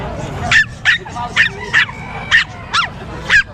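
Pomeranian puppy at an outdoor pet market yipping in a series of seven sharp, high barks at a steady pace, close and loud, with people talking in the background.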